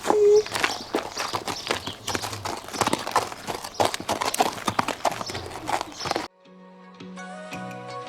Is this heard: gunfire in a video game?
no